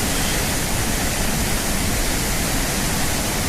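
Umbrella waterfall at Bhandardara, where fast rushing water makes a loud, dense and unbroken roar that fills the whole clip with no other sound.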